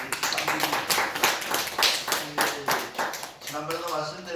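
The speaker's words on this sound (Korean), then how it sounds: "축하하는 의미에서 박수 한번 해주십시오." A congregation at a Daejonggyo religious service claps together in celebration, rhythmic group handclaps in a steady beat of roughly two per second, moderately close and clear, with a few voices mixed in.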